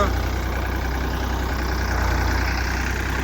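A Farmtrac 45 tractor engine idles steadily nearby, a continuous low, even rumble with no change in pace throughout.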